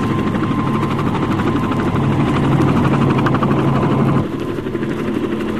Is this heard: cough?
no